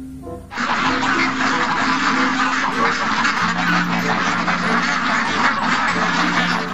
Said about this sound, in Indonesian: Wow, ini bebek putih teman-teman.